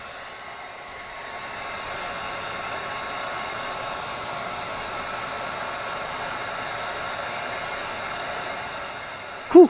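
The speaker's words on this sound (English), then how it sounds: "So I'm going to use a heat gun." A heat gun blows hot air onto a plastic egg to shrink it, making a steady, close whooshing hiss of airflow that rises in the first couple of seconds and holds even, with a brief thump at the end.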